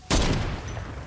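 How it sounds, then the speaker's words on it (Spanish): A sudden loud burst of video game gunfire erupts and then decays into a rumbling echo, heavy and close. "Uy, son tiros."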